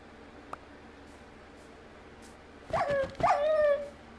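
A dog in VR Minecraft gives two short whimpering yelps, each with a falling whine tone, clear and fairly close after a quiet stretch with one faint click.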